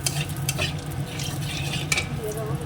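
Potatoes frying in oil in a karahi, with a close, steady sizzle broken by brisk scraping and stirring strokes against the pan.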